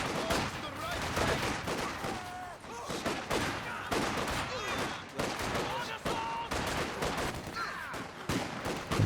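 Machine gun fire and scattered explosions from a 2v2 match of the video game Company of Heroes 2, a busy, continuous battle din with someone commentating over it.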